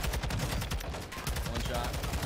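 Rapid gunfire in the video game Warzone: a dense, continuous barrage of loud shots crackling without pause for a couple of seconds, close and harsh, with no clear gaps between reports.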